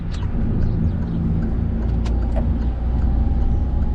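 A car pulls away and accelerates on a road during a driving lesson, a steady, close engine rumble with road noise from inside the cabin and a few faint clicks.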